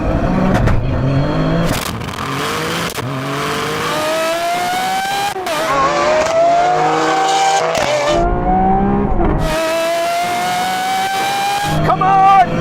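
A 600bhp GR Yaris and a Lamborghini Aventador SV launch in a drag race, loud engines revving and rising through gear changes with tyre noise, sustained and close throughout.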